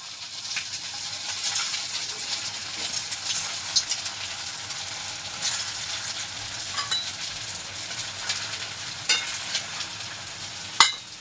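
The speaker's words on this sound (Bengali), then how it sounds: "এগুলো ভেজে নেব।" Gram-flour muitha dumplings frying in hot oil make a continuous close crackling sizzle dotted with sharp pops, louder at the very end.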